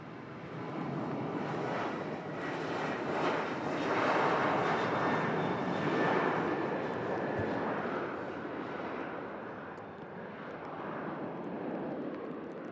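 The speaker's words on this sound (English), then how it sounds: "Lovely departure there, using a lot of runway as well." A TUI airliner bound for Antalya taking off from Manchester Airport, a loud, broad jet roar that swells and holds steady for the whole stretch before easing slightly, with no talking.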